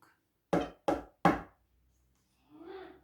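Three loud, sharp knocks in quick succession at the back door of a house on Christmas Eve, a dull, plonking rap, followed after a pause by a brief softer sound.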